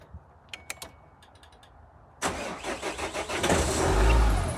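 A 2008 Vauxhall Vivaro van, battery boosted by a jump starter, starts after a few faint clicks: the starter cranks, then the diesel engine fires and rumbles loudly, rising in a swell of revs close by.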